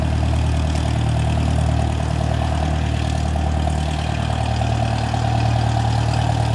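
A small aircraft, registration N570JA, taxis at Aurora Municipal Airport with its engine idling in a steady low drone and propeller rumble, fairly loud and continuous throughout.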